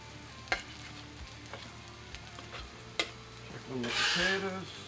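Potatoes sizzle on a flat-top griddle, a low steady fry with sharp scraping clicks of a spatula and a louder burst of sizzling as they are turned near the end.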